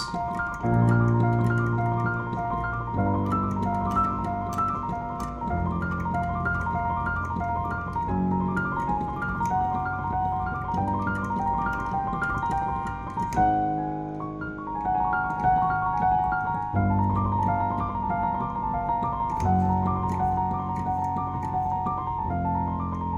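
A repeating right-hand jazz piano ostinato cycles steadily over shifting chords, played alone with a clear, even rhythm and moderate loudness.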